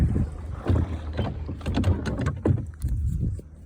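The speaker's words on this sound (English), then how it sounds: "One arm rowing." Oars dip and splash as a small rowboat is rowed one-armed on water, giving irregular near splashes and creaks over light wind noise.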